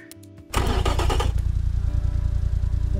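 A 300 HP all-wheel-drive hatchback in BeamNG fires up with a super sport exhaust: a short starter whirr, then a sudden loud catch into a steady, throaty idle that stays close and constant, with no talking.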